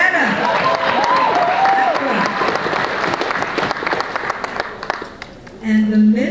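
Audience applause at the SA Neter TV Awards 2018 ceremony, a dense sustained wash of clapping that fills the room and then thins toward the end, with voices audible over it.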